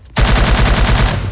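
Rapid automatic gunfire in the shooter game Modern Warfare 2, one loud close burst of evenly spaced shots starting abruptly and running for over a second, with no voices.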